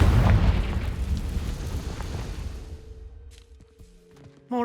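A Confringo explosive spell in Hogwarts Legacy lands with a loud booming blast that rumbles and decays over several seconds into quiet. A brief sharp sound follows at the very end.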